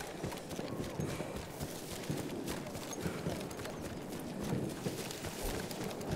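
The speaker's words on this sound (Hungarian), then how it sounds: "Itt egy ló?" Horse hooves clip-clop steadily in the Battlefield 1 video game, a continuous busy patter mixed into dense battlefield ambience with no clear pauses.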